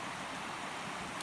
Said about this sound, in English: People, when they come on the farm, they hear the creek in the background